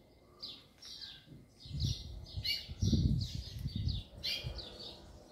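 Small seedeater songbirds, a caged Coleiro and wild Papa-capim, trill and chirp repeatedly at close range, several bright phrases overlapping and answering one another, with soft low rustling underneath.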